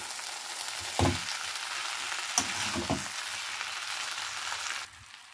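Ghee-fried Gobindobhog rice, fish heads and spices sautéing in a pan, a steady broad sizzle with a few scraping stir knocks, ending abruptly as the heat drops quieter near the end.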